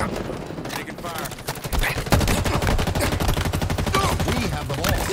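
Dense bursts of gunfire from the Halo Infinite video game, steady and loud throughout, with rapid repeated shots layered under game music and effects, and a voice speaking briefly.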